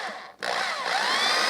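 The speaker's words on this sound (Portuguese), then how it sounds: "com o uso de uma parafusadeira, ou uma furadeira mesmo" A cordless screwdriver or drill spins up after a brief pause and drives a small screw into a wood jig, with a steady high whine that bends in pitch as it bites.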